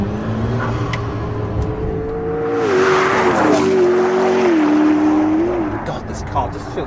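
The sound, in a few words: McLaren P1 supercar driving on public road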